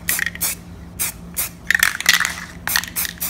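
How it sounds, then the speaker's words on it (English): Short hissing bursts of spray paint from an aerosol can, repeated in quick, uneven pulses, close and fairly loud. "that right there actually sums it up for this spray painting session"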